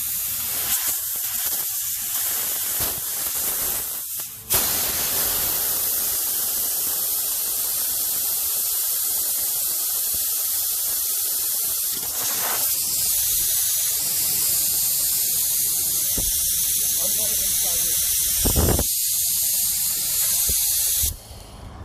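Compressed air hisses loudly and continuously from a cut air hose on a Triumph NTC-950 machine, with a few brief breaks and bursts, a harsh, steady spray close by.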